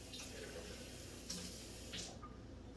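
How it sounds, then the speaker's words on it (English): Water runs steadily to rinse out a pot while cooking jollof rice, a soft, continuous faint wash with a few brief clinks of metal over it. "Use water to just rinse some of the whatever is in the bottom off."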